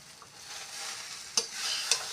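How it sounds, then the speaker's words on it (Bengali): Chow mein ingredients with fried egg and sauce being stir-fried in a pan: a soft, steady sizzle punctuated by two sharp clanks of a spatula against the pan, with no talking. "সেগুলিকে ভালোভাবে ভাজছি।"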